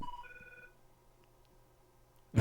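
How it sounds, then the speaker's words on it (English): A telephone rings once or twice in quick succession during a comedy show, a brief, fairly faint electronic ring at first, then quiet room hum before a sudden loud thump. "and the phone rings right at that moment"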